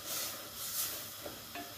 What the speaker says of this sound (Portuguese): O bacon ainda está fritando junto com a linguiça